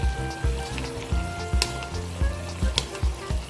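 Fish sizzles in a pan of sweet and sour sauce as it is stirred, with crackling frying and repeated soft knocks of the utensil in a regular rhythm, close and fairly quiet.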